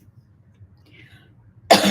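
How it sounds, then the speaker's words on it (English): A single sharp cough bursts out loud and close near the end, after a near-silent stretch with only faint low background murmur. "I'm sorry, I still have cough."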